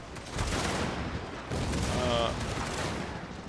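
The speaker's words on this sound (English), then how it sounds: "Mortar shots landing all over the place." Mortar shots land across a medieval battlefield in the Fall of the Dragon Empire game as troops are told to burn a gate: rolling volleys of thudding blasts and crackling impacts overlap in a dense barrage, with someone speaking briefly over them.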